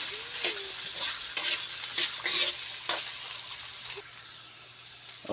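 Potato pieces for a corned beef dish sauté in a pan with a close, crackling sizzle and intermittent scrapes of stirring that gradually ease off.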